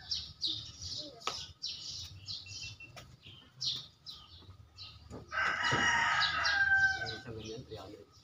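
Chickens crow and cluck near a chicken coop, with a loud sustained crow near the end standing out over faint background voices and other bird calls.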